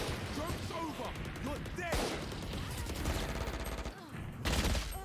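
Rapid gunfire bursts from the video game Valorant crackle loudly and nearly continuously, with sharp repeated shots under a man's overlapping speech.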